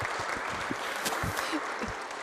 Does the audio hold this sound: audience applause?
yes